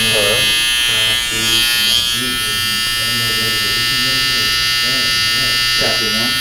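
Electric hair trimmers buzz steadily and loudly up close while lining up a hairline during a skin fade haircut, with someone talking over the hum throughout.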